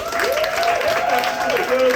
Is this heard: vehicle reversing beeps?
no